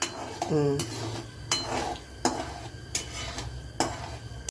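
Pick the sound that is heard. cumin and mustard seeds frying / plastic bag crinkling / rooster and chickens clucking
cumin and mustard seeds frying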